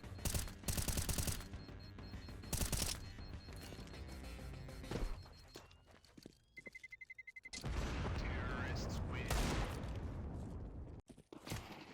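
Rapid bursts of rifle fire in Counter-Strike 2, loud and close, with a fusillade of shots, booming impacts and a machine-gun-like rattle spread across the round, broken by a short quieter gap before more heavy firing.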